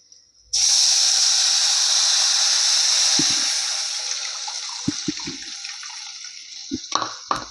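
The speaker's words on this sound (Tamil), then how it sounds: "இப்போ வந்து புளி கரைச்சி ஊற்றிட்டேன்" Tamarind water is poured into a cooking pot for a South Indian lentil-and-greens dish, a steady close rush of liquid lasting several seconds and fading, followed by a few light clinks and taps.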